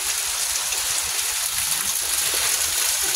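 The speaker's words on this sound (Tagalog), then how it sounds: "Oh, abutan kami ng ulan." Steady rain pouring down outdoors in a country park, a dense continuous hiss with no breaks and no voices over it.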